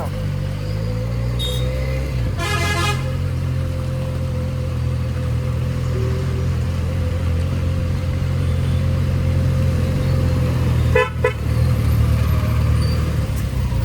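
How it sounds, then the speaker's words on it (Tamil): Congested city road traffic around a stopped Benelli 300 motorcycle, with a steady low rumble of idling engines close by and a few short horn honks breaking through, one early and another near the end. "டிராஃபிக் இங்கே உச்சம்."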